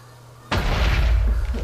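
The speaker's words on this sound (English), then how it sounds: "this is the normal explosion size of 1 TNT block" In Minecraft, a single TNT block goes off with one sudden, loud blast after a brief quiet lead-in, followed by a rumbling, crackling tail that fades slowly.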